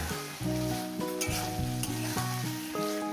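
Spinach being stir-fried in a hot pan sizzles loudly and steadily throughout, with stirring and scraping clatter on top and no talk.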